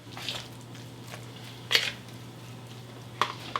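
A utensil mixing guacamole in a bowl or pot, with a few soft squishy stirs and scattered light clinks of metal against the dish over a low steady hum.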